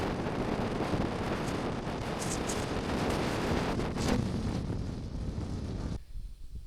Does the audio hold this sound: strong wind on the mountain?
yes